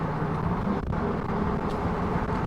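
High-mileage Chevrolet Silverado truck driving, a steady low engine and road rumble that stays even throughout.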